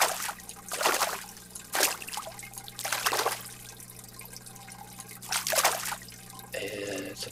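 Small cockatoo dwarf fish dropped into an aquarium tank in Biotope Aquarium Simulator, several separate splashes and water plops spread over a few seconds above a steady low hum.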